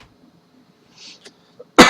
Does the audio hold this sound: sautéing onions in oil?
no